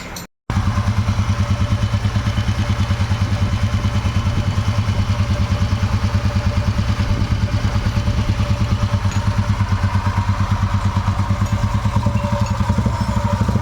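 A restored 1994 Royal Enfield Bullet fires up after a short gap and settles into its steady, thumping single-cylinder idle, loud and close with a rhythmic clatter throughout.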